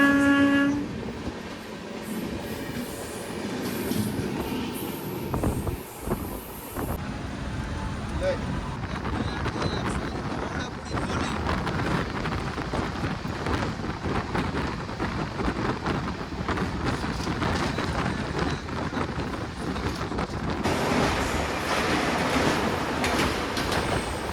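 A Bharat Gaurav tourist train sounds a short horn blast at the start, then its wagons roll past in a long, loud, steady rumble with rhythmic clatter.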